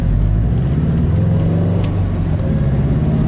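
A Subaru WRX engine revs hard in its very short first gear, a loud continuous rumbling drone that holds steady with slight rises in pitch, close by and with no talk.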